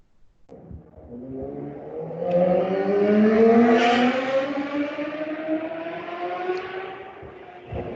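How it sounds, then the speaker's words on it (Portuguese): Loud motorcycles passing outside, an engine revving up as it draws near and then fading away over several seconds, fairly prominent with no talk. "Por que essa gurizada compra essas motos tão barulhentas"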